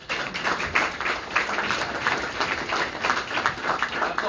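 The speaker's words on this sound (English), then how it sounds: "So give your guys self a round of applause for being here" A small audience gives sustained applause, steady close hand clapping with a slightly uneven rhythm and no talking over it.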